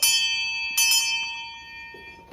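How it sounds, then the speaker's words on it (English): A small school lunch bell rings sharply, struck twice in quick succession, its bright tone sustaining and slowly fading. "And right here we got a lunch bell as well."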